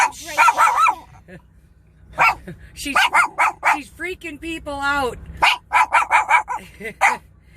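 A dog barks repeatedly at passers-by outdoors, with sharp yips and a whining stretch mixed in among a person talking close by.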